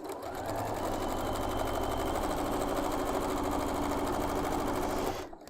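A sewing machine stitches a quilt block for a butterfly big-block quilt, running steadily and close for about five seconds before stopping abruptly.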